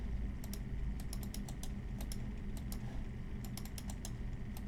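Computer keyboard keys tapped for copy and paste shortcuts: quick, crisp clicks in irregular clusters over a steady low room hum, with no talking.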